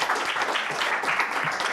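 Dense, steady applause from a live audience at a science thesis-presentation final, with many hands clapping throughout and no voices.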